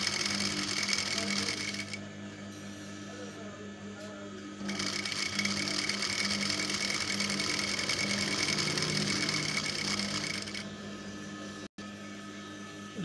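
A sewing machine stitches a palazzo skirt, a continuous close motor whir with a rapid needle rhythm running nearly unbroken, faint speech underneath.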